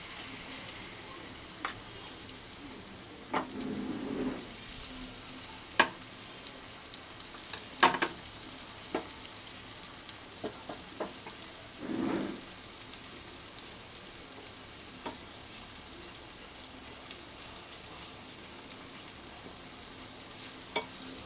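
Carrots and beans in hot oil in a pan on a medium flame: a faint, low sizzle broken by scattered scraping clicks and stirring knocks.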